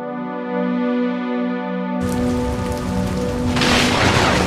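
A steady, loud wash of storm rain with low rumbling thunder starts abruptly after a sustained musical tone, the downpour swelling louder toward the end with no talking.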